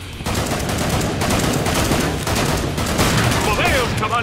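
Rapid bursts of gunfire in the video game Killing Floor 2 crackle almost nonstop in a dense, loud barrage of overlapping shots, with a faint voice underneath.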